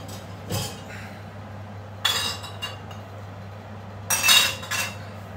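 Glass beer bottles for a Belgian dubbel clink and knock together in a few short bursts as they are placed into an oven, with a steady hum underneath.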